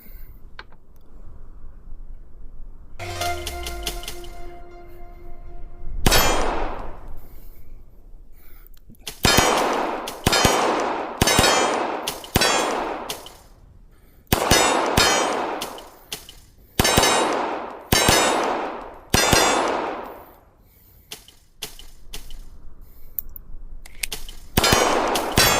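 X Macro carry pistol fired at steel targets, a string of sharp shots each followed by a bright metallic ring that decays, spaced roughly a second apart after an earlier electronic beep.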